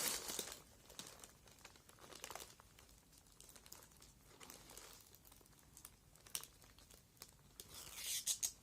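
A protective plastic bag around a cargo parcel crinkles and rustles in quick, irregular bursts as it is handled and unwrapped up close, with louder crackles near the end.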